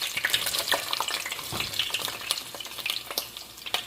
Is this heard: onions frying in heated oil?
yes